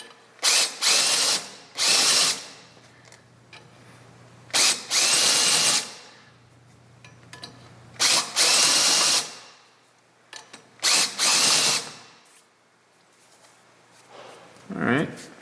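A power deburring tool re-countersinks holes in a ship's wheel, running in several loud close whirring bursts of one to two seconds separated by quiet gaps.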